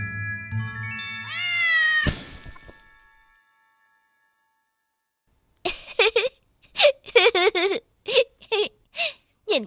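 In a 3D animated fairy-tale cartoon, a long sliding chime and moan fade to silence, then a kitten meows in a rapid run of short, high, wavering cries, close and clear.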